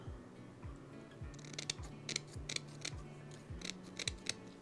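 Scissors cutting card by hand: a quiet, evenly paced series of close snips, each with a soft slide of the blades, with no talk.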